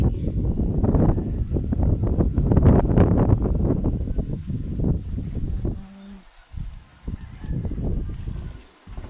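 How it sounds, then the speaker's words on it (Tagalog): Strong, cold wind in an open farm field buffets the microphone in heavy, roaring gusts that surge and ease, briefly dropping away before rushing back. "Sobrang hangin."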